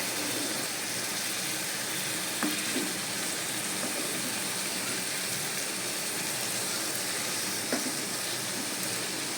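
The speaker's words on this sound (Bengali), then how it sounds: "এটাকে এখন ভালো করে সব কিছুর সঙ্গে কষিয়ে নিতে হবে" Spice masala sautéed and stirred in a pan while cooking doi pabda fish curry, a dense, even sizzle throughout with a couple of faint spoon taps.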